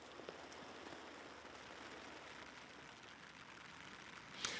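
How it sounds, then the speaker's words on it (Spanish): Steady, calm rain falls on La Palma in the Canary Islands, a faint, even hiss of drops that holds without pause and is heard alone. "Un aguacero que está cayendo de forma tranquila"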